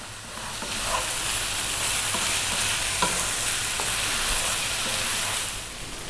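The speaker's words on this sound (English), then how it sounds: "That's your rice frying." Rice frying in a hot wok, a loud continuous sizzle and hiss with occasional stirring scrapes and clicks, steady throughout with no talking.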